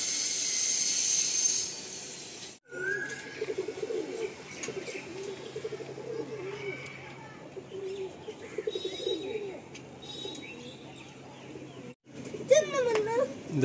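Pigeons cooing softly at a home pigeon loft, low steady coos running through most of the stretch, with occasional chirps and a brief whistle-like call near the end.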